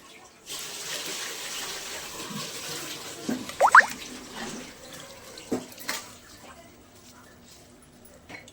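Water for chicken biryani bubbles and churns steadily in a cooking pot, with a few brief clinks and splashes partway through.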